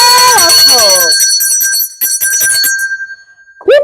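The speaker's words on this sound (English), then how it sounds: "Hey, Atinini, let me ring the bell." A bell is struck once, loud and close, and its bright metallic ring decays over about two seconds before a voice briefly starts.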